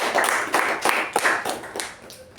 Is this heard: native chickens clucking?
no